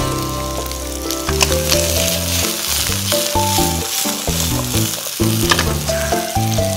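Green onions pan-frying in oil, a steady sizzle running under a prominent stepped melody of background music for the whole stretch.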